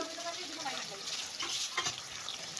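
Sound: tomatoes added to meat frying in a pan

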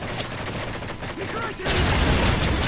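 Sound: MP5 submachine gun fire in Modern Warfare 3 video game

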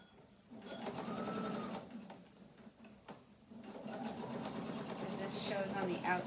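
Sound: sewing machine stitching bias tape on pants pocket

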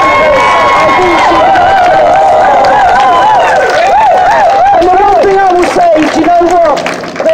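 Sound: rally crowd applauding and cheering loudly

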